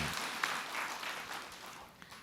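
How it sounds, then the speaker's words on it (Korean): A faint spatter of audience applause during a Buddhist monk's question-and-answer talk, soft scattered clapping that gradually fades. "박수로 봐주세요"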